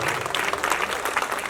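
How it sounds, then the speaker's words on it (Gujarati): An audience at a karaoke singing competition grand finale in Vadodara claps for the performers: a short, dense burst of applause from many hands, lively and fairly close. "બધા એને માટે જોરદાર તાળીઓ થઈ જાય"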